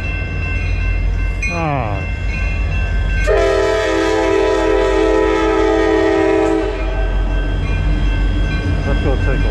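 Freightliner freight train rumbling past close by with loud wheel and wagon noise throughout, a long sustained horn blast sounding in the middle, and a brief exclamation from a person.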